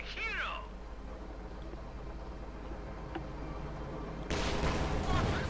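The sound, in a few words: Panther tank gun strike in Company of Heroes 2 video game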